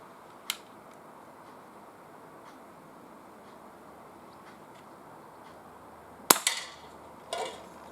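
An Umarex CPS CO2 pellet pistol fires outdoors at a can, giving a sharp crack near the end followed by a quick rattle and a second fainter crack, with one small click earlier over a quiet background.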